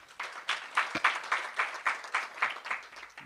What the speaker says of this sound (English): You should applaud yourself for that.